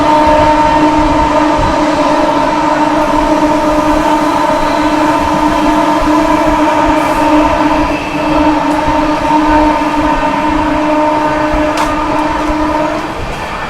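An Amrit Bharat Express passenger train runs at speed while overtaking another train, giving a loud, steady rumble with a sustained droning hum that continues unbroken throughout, with no voices.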